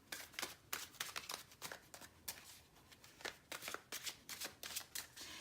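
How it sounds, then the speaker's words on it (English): Tarot cards are shuffled close up, producing repeated crisp riffling bursts in an uneven rhythm with short pauses between them, fairly quiet and with no speech. "All right, so let's shuffle the cards."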